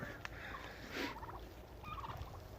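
A turkey gobbles in a couple of quick rattling bursts in an orchard, fairly close, over a low background hum.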